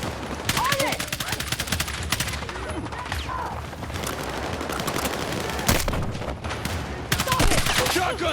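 Battlefield 6 campaign firefight: a rapid, dense fusillade of automatic gunfire with sharp cracks and bursts throughout, loud and close, with scattered voices underneath.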